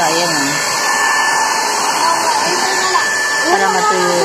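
Hair dryer blower drying a Shih Tzu dog after a bath, a loud continuous whirring hiss throughout, with a voice talking over it.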